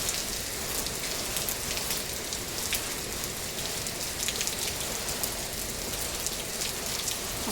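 Steady afternoon rain pours down with dense, continuous patter on surfaces, moderately loud and even throughout, with no voices.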